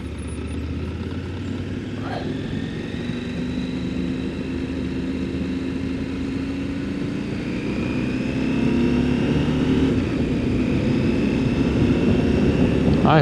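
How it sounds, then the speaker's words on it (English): A Husqvarna Norden 901 motorcycle engine drones steadily while riding through rain at night, its smooth tonal hum slowly rising in pitch and loudness, with constant road and rain noise underneath. "I hope you can hear the engine."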